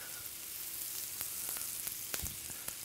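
Onion sizzling and frying on a George Foreman indoor/outdoor grill, a steady close hiss with a few sharp crackles and pops scattered throughout.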